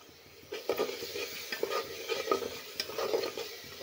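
Masala and mutton sautéing in a pot, with repeated spoon-stirring scrapes and clinks over a continuous sizzle, close and fairly loud in an irregular rhythm.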